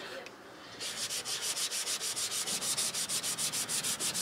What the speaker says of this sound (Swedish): det här ska sandpapper liksom helt och hållet bara slipa ner så att det blir jämna ytor här